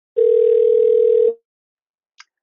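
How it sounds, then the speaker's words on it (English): Phone ringing from a browser-based sales call: a single steady electronic tone lasting about a second, loud and clean, followed by a faint short click. "We can see that my phone is ringing now."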